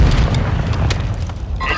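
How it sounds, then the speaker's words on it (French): A flash grenade goes off in Call of Duty Warzone 2.0, a loud, deep booming blast with a rumbling low end, close and sustained through the short moment. "Une grenade flash."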